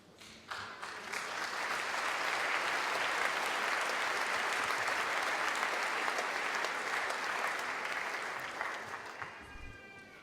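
A congregation applauds at a covenant church service, a dense, even wash of clapping that swells within the first second, holds steady for about eight seconds, then starts to thin toward the end.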